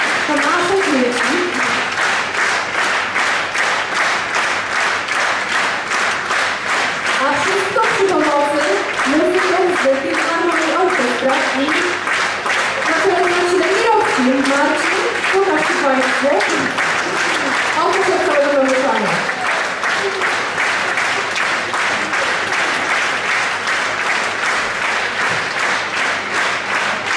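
Sustained applause from a concert audience at a charity finale, steady and loud throughout, with voices speaking over the clapping.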